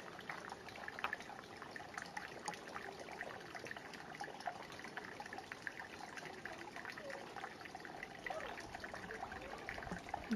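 Water trickles steadily at the creek outlet of Montezuma Well, a soft continuous outdoor wash and babble running throughout at moderate distance with no talk over it.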